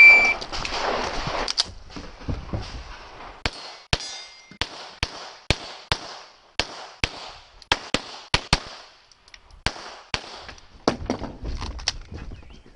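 Gunfire at an international dynamic shooting competition range in Slovakia: a string of sharp single shots at an irregular quick pace, some in rapid pairs, loud and echoing across the range, with no talk.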